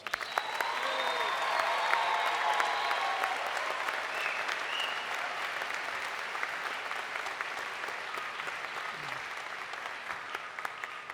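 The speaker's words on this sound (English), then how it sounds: "Let's give them another round of applause." Sustained applause from a large crowd for graduates at a commencement ceremony, steady and full for the whole stretch, slowly easing slightly toward the end, no voices over it.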